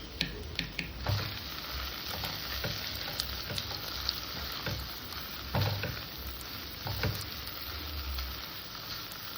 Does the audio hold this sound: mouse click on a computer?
no